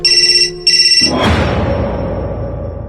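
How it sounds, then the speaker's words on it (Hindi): A phone ringtone plays a bright repeating electronic melody in two bursts, then cuts off into a loud rushing clatter that slowly fades. "चार्ज पर लगा उसका फोन अचानक से बज उठा"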